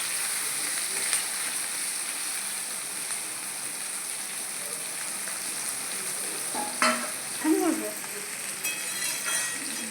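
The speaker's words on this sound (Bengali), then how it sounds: "পেঁয়াজ দিয়ে দিচ্ছি, পেঁয়াজটা একটু ভাজা ভাজা করব" Onions frying in a pan for chicken curry, a soft continuous sizzle with a few brief scraping stirs of a utensil partway through, fairly quiet and alone.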